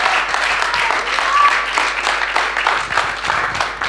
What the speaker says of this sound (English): Let's clap hands for Jesus in this house.